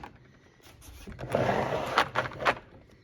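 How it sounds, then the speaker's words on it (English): Metal drawer of a mechanic's tool chest slides open with a rolling scrape that swells and ends in a couple of rattling clunks, close and fairly loud. "Pull this drawer out."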